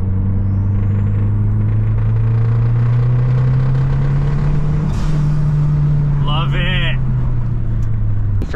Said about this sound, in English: I have this bad habit of buying cars just because of the noises they make.